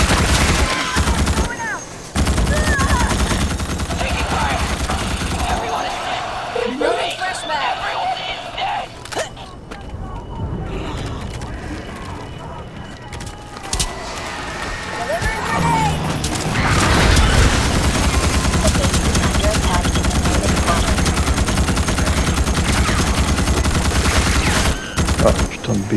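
Gunfire in the sci-fi shooter Starship Troopers: Extermination rattles in loud, dense automatic bursts and booms that continue through most of the stretch, dipping briefly mid-way before surging again, with voices mixed in.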